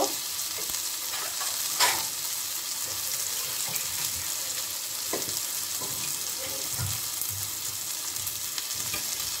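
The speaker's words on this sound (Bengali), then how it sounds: "এটার মধ্যে তেল লেগেছিল, তাই এটার মধ্যে জল দিয়ে নিচ্ছি" Water pours into a pan of fried spice masala for an egg and cauliflower curry, raising a steady close sizzle and bubbling with occasional stirring clatter, heard alone for several seconds.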